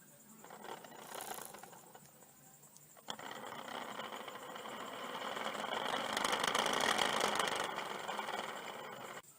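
A small homemade electric motor whirs and rattles, starting softly, then kicking up to a louder buzzing hum that swells and eases toward the end.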